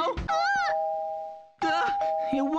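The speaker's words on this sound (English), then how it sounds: "It won't stop ringing the doorbell!" A two-tone doorbell chime rings out loudly in a Minecraft game, sounding twice in quick succession with a sustained tone between, clear and close.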